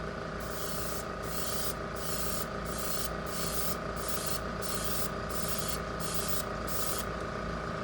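Kaleido paint goes on in repeated short spray bursts, each a bright airy hiss of about half a second, laid over a steady loud fan or hum.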